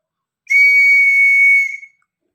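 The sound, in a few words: whistle being blown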